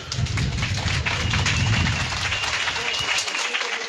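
Outdoor crowd at an indigenous man's protest in front of the public prosecutor's office breaks into loud, dense clapping that fills the whole moment and tapers slightly toward the end, with voices mixed into the noise.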